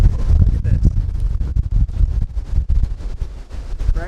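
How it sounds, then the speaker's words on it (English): Strong gusts batter the microphone outdoors, loud buffeting rumbles and pops rising and falling unevenly throughout, with a voice briefly heard beneath. "This is how windy it is."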